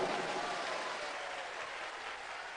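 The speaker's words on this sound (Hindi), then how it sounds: "एक बार जोरदार ताली बजाइए" A crowd applauds at a Shiv Mahapuran religious discourse in Prayagraj, giving a dense, even wash of clapping that holds steady for a few seconds at moderate distance.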